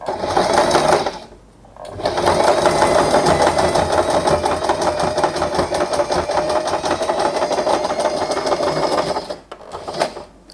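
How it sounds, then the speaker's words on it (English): A sewing machine runs a back-stitch pattern on fabric for a sailor hair bow, loud and close with a continuous rapid mechanical whir, pausing briefly near the start and again near the end. "I will use a back stitch pattern. Let's just sew it."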